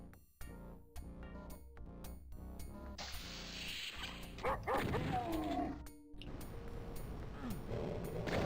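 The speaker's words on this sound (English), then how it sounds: "Why do they have the Wolfenstein dog sounds?" Repeated sharp dog barks from the Wolfenstein dog sound effects in a Doom mod, rapid and rhythmic at first, then a burst of crashing gunfire and yelps as the barking continues amid chaotic game noise.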